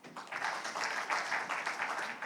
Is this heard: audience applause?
yes